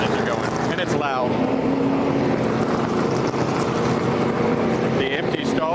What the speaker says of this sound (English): you probably can't hear me because the engines are going